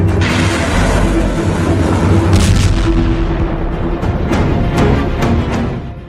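Artillery fire and explosions in the war zone at Bakhmut: heavy, continuous rumbling booms with several sharp blasts layered over a dense roar, loud throughout and easing slightly at the end.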